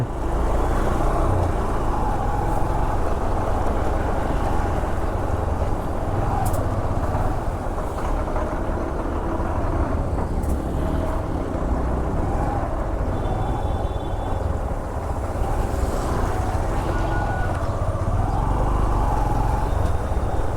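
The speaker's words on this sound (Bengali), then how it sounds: "পুরো জ্যাম লেগে আছে" Road traffic in a jam heard while riding a 125cc motorcycle on a long tour: a loud, constant rumble of engines and wind noise close by, with occasional horn tones rising above it.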